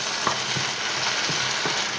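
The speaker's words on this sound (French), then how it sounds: "Les légumes cuisent tranquillement." Vegetables cooking in a frying pan alongside veal paupiettes give a steady close sizzle, broken by a few soft scrapes and knocks of stirring.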